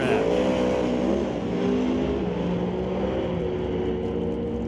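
An old school pro stock drag race car with a 500 cubic inch engine and five-speed clutch transmission roars down the track, a loud sustained engine howl with steadily climbing pitch.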